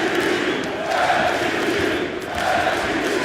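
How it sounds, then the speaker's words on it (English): Steady roar of a large arena crowd at a Bellator MMA fight, a continuous broad wash of noise with swelling cheers and rumbling voices, loud and close throughout. "And listen to this crowd."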